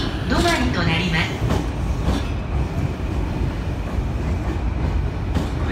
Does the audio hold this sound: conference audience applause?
no